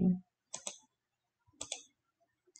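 Computer mouse clicking in Cricut Design Space on a desk, two pairs of quick, close, crisp clicks with silence between them.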